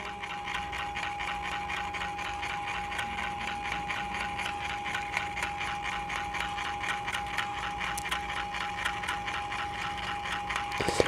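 A Protrim Elite automatic trimming scissors runs continuously nearby, a steady motorized whirring with a fast rhythmic clatter of the blades, faint scraping details over it and a few louder clicks at the end.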